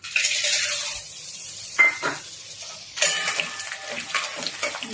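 Edible gum (dink) drops into hot ghee and fries for winter laddoos, a soft hissing sizzle with a few clinks and scrapes of a utensil stirring the pan, close and without talk.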